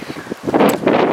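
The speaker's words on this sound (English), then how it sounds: "it's hella windy right now." Strong wind gusts across a campsite, buffeting the microphone with loud, rumbling bursts that build and roar in a brief surge.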